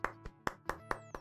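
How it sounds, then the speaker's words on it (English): A handful of soft, sparse hand claps in a slow, uneven rhythm, five or six light smacks close by in an otherwise quiet room. "Golf clap."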